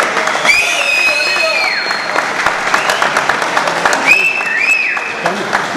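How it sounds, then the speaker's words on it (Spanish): Sustained crowd applause fills a boxing league event at a neighbourhood boxing school club, loud and continuous, with whistles and raised voices cutting through the clapping. "Fuerte el aplauso para él."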